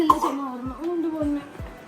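A mother and her son cough, several short, rough coughs coming close together in quick succession, mixed with voiced throat sounds nearby.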